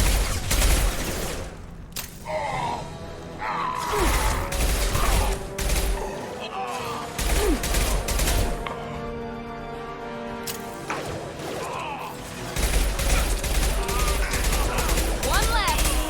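Sci-fi gunfire from Mass Effect 2 combat: dense bursts of automatic weapon fire and heavy impacts crackle and boom across the whole stretch, broken by short lulls, with voices calling out over the shooting.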